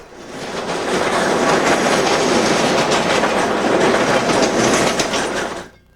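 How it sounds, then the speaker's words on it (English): A northbound mixed freight led by a pair of blue EMD SD50 locomotives roars past at speed through Wyandotte, Michigan in winter, loud and close, with a steady clickety-clack of wheels that swells in and then drops away. "A northbound mixed freight, TOST, highballs through Wyandotte, headed from Toledo, Ohio to Sterling Heights, Michigan, behind a pair of big blue EMD SD50s."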